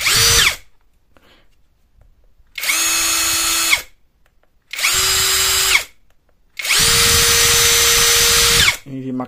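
An MLHY 20V cordless drill, its ESC module swapped for an impact wrench module, whirs at max speed in three loud steady bursts of rising pitch separated by silent pauses, the last burst longest.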